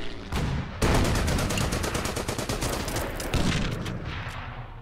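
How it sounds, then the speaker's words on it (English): Artillery and gunfire in a WW2 strategy game about the Battle of Dunkirk: loud, dense rapid bursts of shots and booms rattling continuously, with a brief lull before a heavier sustained barrage. "we should be able to keep on firing with our artillery, even at this range"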